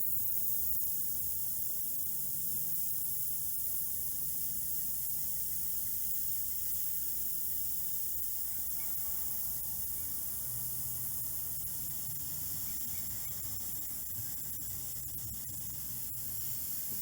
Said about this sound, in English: You hear the gases seeping out.